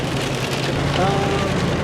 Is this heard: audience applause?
no